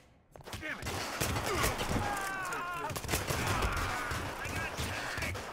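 Gunfire in the video game Hitman crackles in rapid, continuous bursts of shots during an Italy mission, with muffled voices talking underneath.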